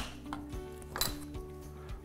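A metal strainer clinks and rattles against pots and dishes in a home kitchen during cooking, with several light metallic knocks spread over two seconds, fairly close and without talk.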